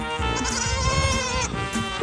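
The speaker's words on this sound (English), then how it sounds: "This is my little goat friend." A little goat bleats loudly and close by on a mountain hiking trail, with several wavering, crying calls in quick succession and a brief human murmur in the background.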